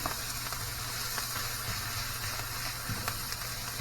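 Bacon, jalapeños and corn sauté in a pan with a steady, even sizzle and hiss. It sounds close, holds a constant level throughout, and no voice is heard.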